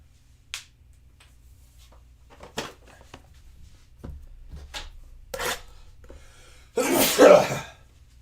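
A single loud, close sneeze bursts out near the end after a stretch of quiet rustling and small handling noises at a sports trading card box break.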